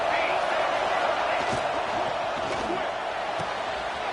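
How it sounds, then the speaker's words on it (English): Football stadium crowd at a Michigan versus Nebraska game roaring steadily before a second-down play near the goal line, a dense continuous cheer with a commentator talking over it. "this crowd is turning it up a notch"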